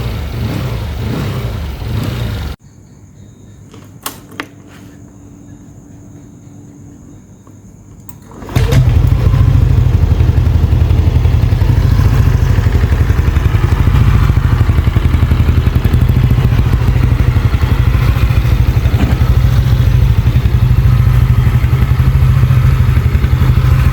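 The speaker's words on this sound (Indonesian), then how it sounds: "idle ya gini, naik turun, cuma sayang knalpotnya masih standar ya." Yamaha Aerox scooter bored up to 180cc with a 63mm bore and stock exhaust: an idle at first, a pause, then the engine runs loud and steady for the rest of the clip with a rough, throbbing low drone.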